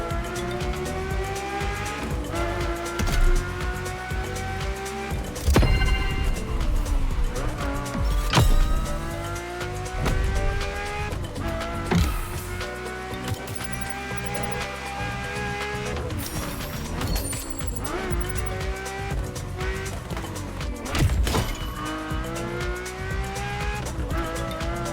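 A Ferrari F40 screams through a race in The Crew Motorfest, its engine climbing and dropping through gear changes with bursts of tire squeal, loud and continuous with no voices.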